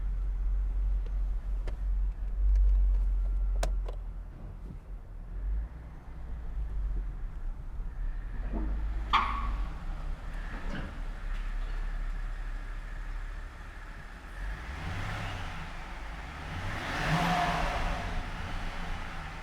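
Supercharged Alpina B7 V8 engine idling with a low rumble, then revving up in several rising bursts, close and loud, with no talk over it.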